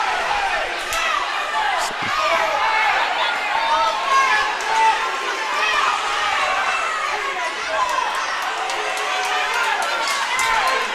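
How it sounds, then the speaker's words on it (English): A basketball crowd at the Gerald Jennings tournament finals keeps up a loud, continuous roar and chatter, with squeaking shoes and thumping bounces mixed in and an announcer talking over it throughout. "Crowd's getting into the game."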